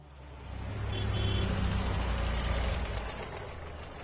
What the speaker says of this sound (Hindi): कृष्णा रेजिडेंशियल अपार्टमेंट के पार्किंग लॉट में एक एक करके ऑफिस से लौटती गाड़ियां अपनी अपनी जगह पे आके खड़ी हो रही हैं।